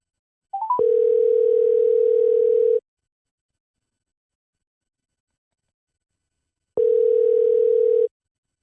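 A steady telephone dial tone sounds while a guest is being called. It plays clear and loud for about two seconds after a short blip, cuts to silence, then comes back for just over a second, with no voices.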